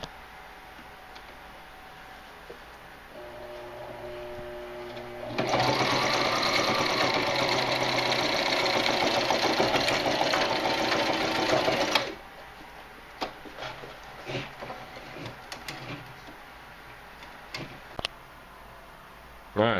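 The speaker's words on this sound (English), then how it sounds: "I'll sew that on, and then I'll show you how I make the rest." A sewing machine stitches paracord sling webbing in one continuous burst of fast, even mechanical chatter lasting several seconds, close and loud, framed by quieter handling clicks and rustles before and after.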